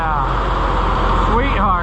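An Oliver 1755 tractor engine running after a cold start, having not run since the previous year, a loud steady rumble with a slight shift in pitch near the end, close by and continuous.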